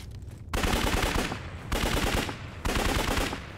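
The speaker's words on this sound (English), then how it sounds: "Oh, I like how the vector sounds." Three bursts of rapid automatic fire from the Vector gun in the Zed Zone video game, each loud and dense, separated by brief gaps.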